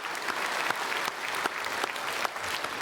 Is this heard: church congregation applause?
yes